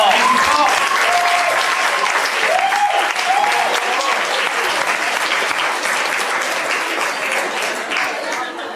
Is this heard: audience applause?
yes